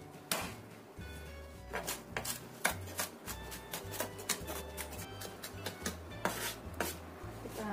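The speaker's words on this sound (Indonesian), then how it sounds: "untuk bawang putihnya kita cincang halus" Garlic being finely chopped with a knife on a cutting board, a rapid string of crisp, fairly even knife taps, close and quiet.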